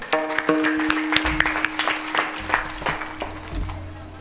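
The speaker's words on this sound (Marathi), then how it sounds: "एकदा सगळ्यांसाठी जोरदार टाळी वाजवा" Scattered hand claps ring out over a sustained musical tone, building into a loose round of applause from a small crowd.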